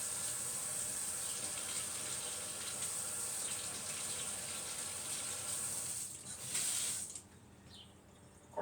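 Hot water runs steadily from a tap, a continuous hiss and splash close by, easing off near the end when the flow stops; the water goes into a baked chicken and rice dish with chicken bouillon.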